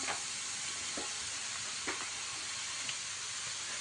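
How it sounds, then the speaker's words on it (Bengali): Grated carrot hitting hot ghee in a pan for carrot halwa, giving a continuous loud sizzling hiss with a few soft stirring knocks scattered through it. "এই যে এখন দেওয়া হচ্ছে গাজর। ঘি গরম হয়ে গেছে।"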